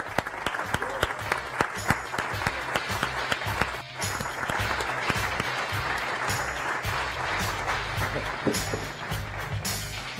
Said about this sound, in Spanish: Un fortísimo aplauso de pie todos para Luis Martín Caviedes